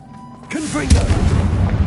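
A Confringo fire spell from Hogwarts Legacy bursts loudly after a brief quiet start, followed by rolling low thuds and crackle; a voice is heard at the moment of casting.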